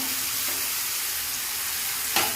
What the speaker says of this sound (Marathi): भाजी चांगली परतून घेणार आहोत